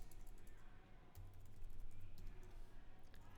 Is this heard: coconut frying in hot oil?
no